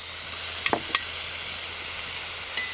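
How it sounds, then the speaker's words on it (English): Mushrooms and onions fry on a rocket stove fed with small sticks, giving a steady soft sizzle, with a couple of brief scraping stirs early on; no one talks. "let's get these mushrooms stirred up a bit"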